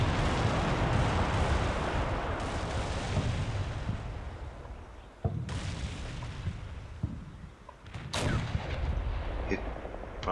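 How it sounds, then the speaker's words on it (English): Impacts from a TOW missile striking a tank turret in the Cold War wargame Combat Mission Cold War, heard as heavy, dense booming and crackling with sharp bursts and a thump around the middle, loud and continuous, with no talk. "Oh, here comes a tow. Hit the right turret, destroy it."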